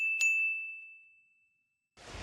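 A single bright notification ding sounds close and clear, then rings out in a long fading tone before silence and a burst of soft noise.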